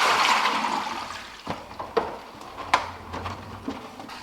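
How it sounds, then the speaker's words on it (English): Water drains out of a styrofoam incubator with a rushing pour that fades into trickles and light knocks and splashes, close and fairly quiet. "All right, so I'm gonna drain the water out of here."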